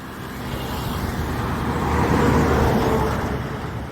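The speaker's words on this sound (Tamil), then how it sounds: "எப்படி தான் வண்டி வாகனம் வருதுன்னு பாருங்கள்" Continuous road traffic rumbles close by as cars and other vehicles pass, a dense steady roar that swells slightly in the middle, with no talking.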